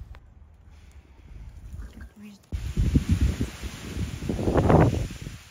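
Wind gusts through an autumn vegetable garden, a soft broad rush that rises into a louder, fuller blow in the second half, with rustling over it.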